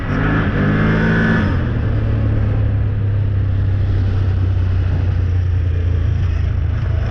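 A Can-Am Outlander 1000 ATV engine while riding, loud and close, with a brief rev at the start that drops into a steady low drone.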